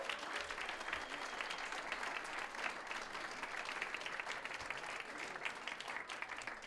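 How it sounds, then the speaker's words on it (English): An awards ceremony audience applauds finalists and winners in sustained, dense, even clapping that fills the whole stretch at moderate loudness, with no voices above it. "Let's have a big round of applause for all the finalists and winners tonight."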